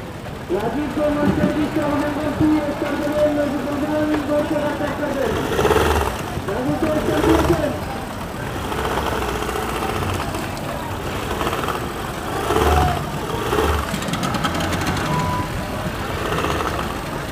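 Speedboat engines at the Mawa ferry ghat, a steady motor drone with surging passes and rumbles, heard under someone talking.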